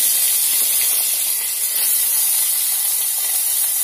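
Cut green chillies hit hot oil in a pan while ponnaganti greens curry is cooked, producing a loud, continuous, close hissing sizzle without any talking.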